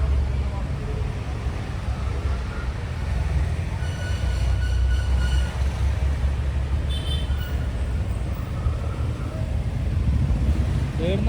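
A train rumbles past nearby at Vadakara railway station in Kerala, heavy low rolling noise with faint metallic squeals, continuous and loud for the whole stretch.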